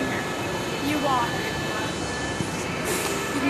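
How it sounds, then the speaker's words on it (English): A Miami Metrorail train approaches a station with a sustained broad rumble and faint high squeal, steady and fairly loud, while people talk over it. "Oh, here comes the train!"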